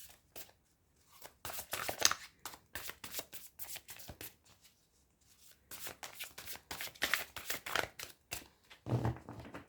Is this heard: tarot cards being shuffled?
yes